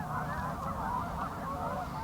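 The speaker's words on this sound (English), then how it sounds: "And these Canada geese." A flock of Canada geese honks continuously in the distance, overlapping calls blending into a steady, busy chorus with no pauses.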